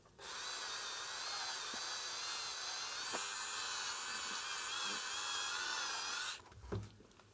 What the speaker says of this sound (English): I want it to be completely diffused, and I just use the Dremel.